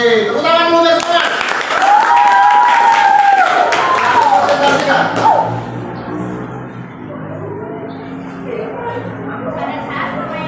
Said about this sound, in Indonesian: tepuk tangan dulu guys semua